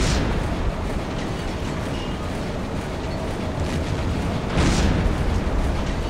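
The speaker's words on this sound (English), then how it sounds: "I don't think we can sink the other guy just by deck gunning him" Submarine deck gun fire and explosions in Silent Hunter 3 come as a dense, loud, continuous rumble, with a sharper burst rising out of it near the end, and no talk over it.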